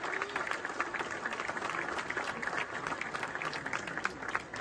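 Applause from an audience at a Genoa football club celebration in Moena, a steady dense wash of clapping held at an even level throughout.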